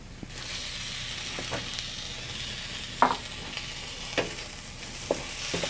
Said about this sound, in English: So what you want here is you want a little bit of caramelization on the chorizo when you're cooking